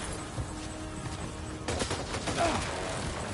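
Gunfire in the video game Death Stranding 2 rings out, with quieter background rumble giving way after a moment to a denser burst of rapid shots that stays fairly close and loud.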